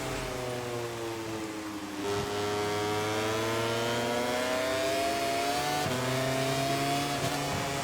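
Aprilia MotoGP bike engine in the MotoGP 24 racing game at a rain-soaked Sachsenring, revving high and steady with rising and falling pitch sweeps and a clear gear shift near two seconds and again near six, loud and continuous with no talk.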